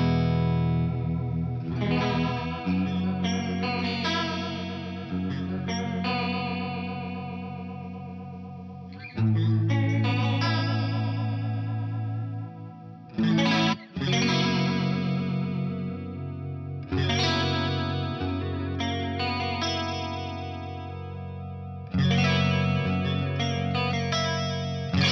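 Clean electric guitar chords pass through a swirling BOSS BF-1 flanger pedal, the tone sweeping and wobbling as phrases repeat with short pauses between them.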